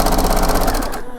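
A sewing machine rapidly stitches the facing of a blouse, a fast steady mechanical rattle that stops abruptly after about a second, close and loud.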